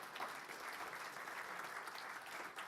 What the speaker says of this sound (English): Just a round of applause for this gentleman.